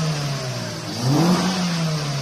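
A Honda CR-V on a gas (LPG) conversion in a repair shop revs up briefly during a test after a fault with voltage drop and stalling, rising from a steady idle hum to a louder rev and settling back, with no talk.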